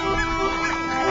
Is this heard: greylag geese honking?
yes